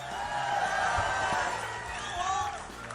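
Large crowd at a political rally in Cedar Rapids, Iowa, giving a sustained, roaring cheer with whoops throughout, fairly loud and steady.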